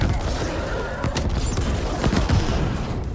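Rocket launches and blasts in the sci-fi action game The Ascent, a steady loud volley of booms and gunfire-like bursts rolling continuously with a few sharper hits.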